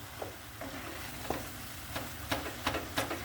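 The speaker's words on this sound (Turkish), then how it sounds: "Şöyle bir karıştırıyorum." Carrot cezerye mixture with lemon juice being stirred in a pot, a spoon scraping and clicking against the sides in several brief, irregular strokes over a soft steady background hiss.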